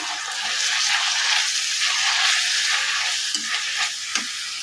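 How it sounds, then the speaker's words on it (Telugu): Chili powder, turmeric and spices are stirred together for tomato pickle in a hot pan, giving a continuous close sizzle with scraping stirs and a few soft knocks of the spoon. "ఇవన్నీ కలిపి ఒకసారి కలుపుకోవాలి"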